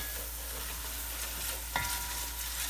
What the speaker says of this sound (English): as the milk solids kind of bubble away, you're going to get this nice brown butter